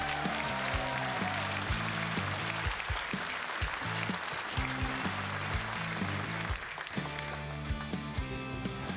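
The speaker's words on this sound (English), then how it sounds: "Let's have one more round of applause for our U.S." An audience at the Astronaut Hall of Fame induction ceremony claps for the inducted astronauts in steady, moderately loud applause, with music playing underneath.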